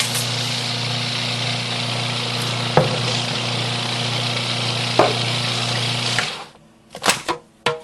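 Ingredients browning in a pan for homemade marzipan give a steady, loud sizzle with a low background hum, broken by two sharp clicks before the frying fades and a few close utensil knocks end it.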